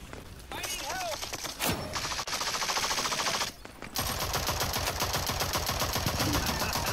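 An AK rifle in Rogue Company fires sustained rapid-fire bursts, loud and close, separated by a couple of short breaks, a dense mechanical rattle filling the whole stretch.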